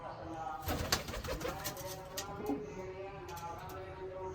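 Soft pigeon cooing with a few low murmuring calls, close by, over a busy background and faint rustling.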